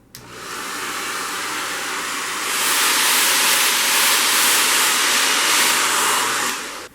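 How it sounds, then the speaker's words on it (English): A hair dryer blows steadily with a loud, even whoosh, heating faux crocodile fabric on a barstool, stepping up to a higher, stronger setting partway through before cutting off. "What I do need to do is get a hairdryer going."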